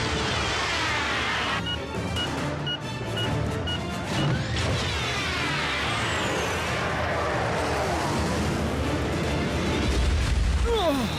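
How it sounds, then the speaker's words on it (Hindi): An explosion rumbles and crashes through a loud, dense stretch of a Transformers Prime cartoon action scene, with booming debris and effects layered together. "क्यों, कैसा लगा ये धमाका?"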